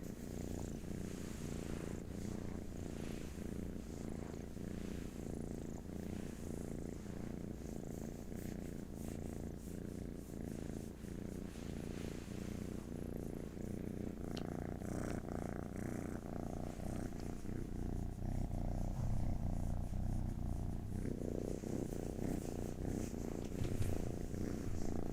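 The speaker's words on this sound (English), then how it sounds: "I'm going to go ahead and let the kitten purrs take us out." Steady, continuous purring from a kitten, a low rumbling drone that runs throughout without pause, fairly close, with faint background hum underneath.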